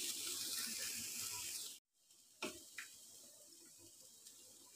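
Water pours into a pot of bhuna khichuri in a home kitchen, a steady hissing stream that cuts off abruptly partway through, followed by a few faint clinks.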